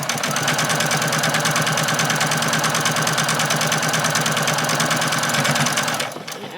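Sewing machine running steadily while stitching fabric for a bag, a loud, even rapid mechanical whirr held for about six seconds before stopping abruptly.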